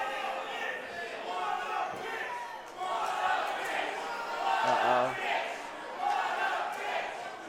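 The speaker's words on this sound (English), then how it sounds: "Crowd lets Maximilian know what they think of him" A crowd at an Xtreme Rules wrestling match reacts to the wrestler Maximilian with a loud, sustained roar that swells and dips. A commentator talks over it throughout.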